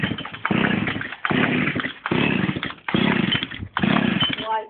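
Loud raspy two-stroke rattle from a mini moto engine running with no exhaust fitted, firing in five bursts that stop and restart between short gaps, close by.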